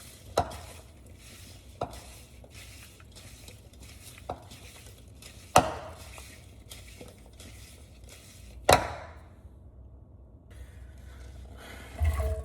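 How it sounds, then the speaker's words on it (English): Seasoned sweet potato cubes are tossed in a bowl, giving a few sharp clacks and knocks amid soft rustling scrapes, close and sparse, with a louder bump right at the end; no talking. "now we'll give it a little mixy mix"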